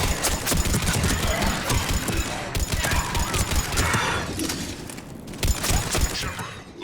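Rapid bursts of gunfire from a firefight in the video game Mass Effect 3 crackle continuously at moderate loudness, dense clusters of shots overlapping with clanks and impacts.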